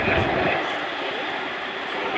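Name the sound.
Chinook HC5 helicopter taxiing back to its parking spot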